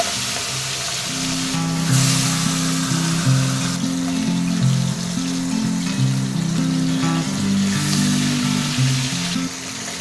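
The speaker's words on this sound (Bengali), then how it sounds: "এবার মাছগুলোকে একে একে ভেজে নেব।" Bhetki fish pieces frying in mustard oil in a hot wok: a continuous hissing sizzle that runs beneath background music throughout.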